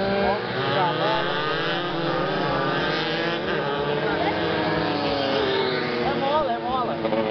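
Racing motorcycles on a track at a motorcycle road race in Araraquara, engines whining and shifting pitch continuously as they pass, with voices talking over the racket throughout.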